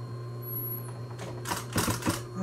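Sewing machine stitching a chicken hen saddle, running a short burst of rapid stitching across the fabric in the second half, with a steady motor hum throughout and no talk.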